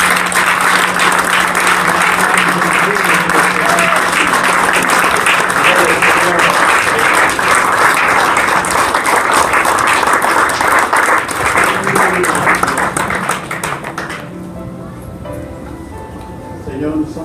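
A church congregation applauding at an evening service, sustained dense clapping from a large crowd with cheering voices mixed in, loud and continuous, fading out near the end.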